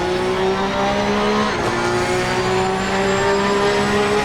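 Porsche Cup race car engines in Assetto Corsa Competizione at Donington Park hold a loud, sustained high-revving drone, with a brief dip as a gear change or pass cuts through.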